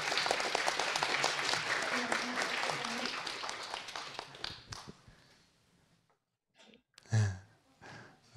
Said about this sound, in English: can we just get a round of applause?